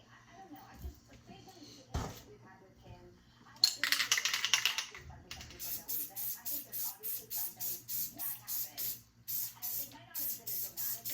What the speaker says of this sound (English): So spraying adhesive is like spraying spray paint.